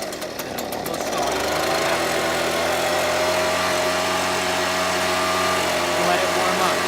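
Two-stroke leaf blower engine catching after pull starts and settling into a steady, close, buzzing run as it warms up, with a rough sputtering start before the even drone.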